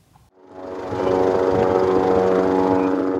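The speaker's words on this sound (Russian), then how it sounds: "Министр транспорта на открытие очередного участка дороги Сортовала прилетел на вертолете." A helicopter carrying a transport minister flies in near a road opening, its steady rotor and engine drone rising from near silence within the first second and holding loud and constant with no talk.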